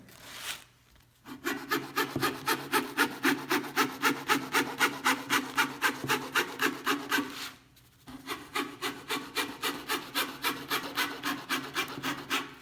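A marquetry fret saw cuts through a thin wood veneer sheet with a fast, regular back-and-forth rasping stroke, close and clear, pausing briefly near the start and again near the end before resuming.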